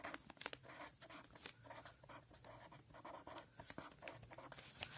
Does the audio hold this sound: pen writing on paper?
yes